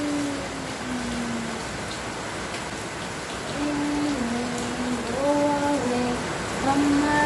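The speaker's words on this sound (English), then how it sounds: "Wow, it's raining." Continuous light rain patters over a gentle children's song melody, a soft steady wash of drops that stays even throughout with the tune sounding on top.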